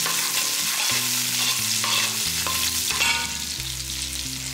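Small onions sautéing in oil in a pan for a country chicken curry make a steady sizzle with occasional stirring scrapes, with music playing alongside.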